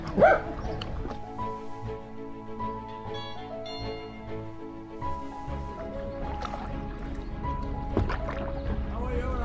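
A dog gives a few sharp barks and yips early on, then people talk over a steady low rumble.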